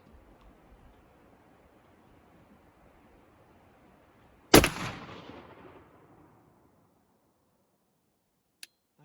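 A Lanber Spanish shotgun firing a Federal 1600 fps slug outdoors on a windy day: one sharp, loud blast that rings out and decays over about a second, over steady wind noise, followed later by a faint click.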